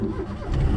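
A car engine started with the ignition key catches and settles into a mid-pitched running rumble that swells slightly toward the end, close and fairly loud, with no talking over it.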